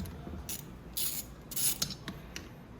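A ratchet with an 8 mm socket on a long extension works loose the bolts on a Venom 125cc engine, giving bursts of dry clicking and rasping with short pauses between strokes.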